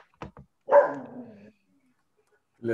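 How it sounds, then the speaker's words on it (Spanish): A dog that has just woken gives a single close, sharp bark, preceded by a couple of brief knocks and followed by the start of a voice. "se le despertó al perro"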